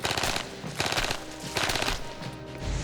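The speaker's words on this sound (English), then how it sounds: "This Thompson fires the same round that's shot in the Colt 1911, except the Thompson fires at 700 rounds per minute." A Thompson submachine gun, chambered for the same pistol round as the Colt 1911, firing fully automatic at about 700 rounds per minute: four loud, rapid bursts of cracking shots in quick succession with no talk.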